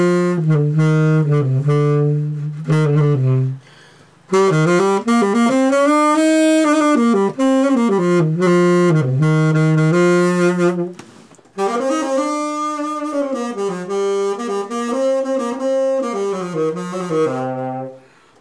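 Alto-range saxophone played through a SaxMute One practice mute in an apartment, a muffled sustained melody of held and bending notes, close and clear, with brief pauses between phrases and no talking.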